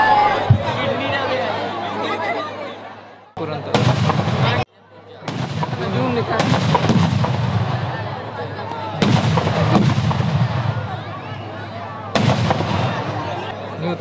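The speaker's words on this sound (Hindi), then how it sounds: "अब रावण के पास जितने भी पटाखे लगे हैं सब धीरे धीरे करके एक एक करके अपना चलना दिखाएंगे।" Firecrackers bursting one after another on a burning Ravan effigy at a Dussehra Ravan Dahan event, loud rapid crackling bursts in several waves with brief pauses, over crowd chatter and someone talking.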